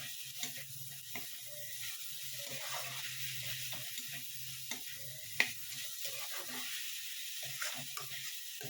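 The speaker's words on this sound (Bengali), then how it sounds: "ভেজে তারপর বেগুন আর আলুটা দিয়ে এইভাবে ভালো করে ভেজে নেবেন।" Methi leaves frying with eggplant and potato in a pan, a faint steady sizzle broken by soft scraping stirs and a few sharp utensil taps, with no talking.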